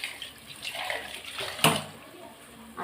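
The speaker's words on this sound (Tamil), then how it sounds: "புளி கரைசல் ஊற்றிக்கிட்டேன்னா" Tamarind water poured into a mixer jar while making garlic kulambu (poondu kulambu), a steady close splashing pour with one brief sharper splash partway through.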